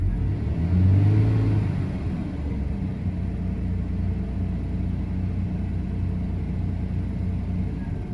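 A Jaguar XJ40 engine idling without its fuel pump and starting to run lean, a steady low rumbling drone with a brief swell near the start, then an even, continuous hum.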